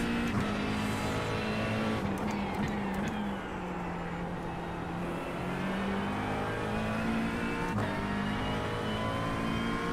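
A GT3 race car in iRacing at Bathurst drones loudly and steadily throughout, its engine note shifting with revs as it climbs and falls, with brief sharp ticks over it and no talk.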